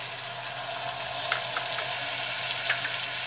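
Soaked peanuts fry in hot oil with chili for sabudana vada, giving a steady, close hiss with a few soft pops and bubbling bursts.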